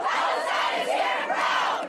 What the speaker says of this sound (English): In the Northeast, a pro-Palestinian demonstration at Brooklyn College.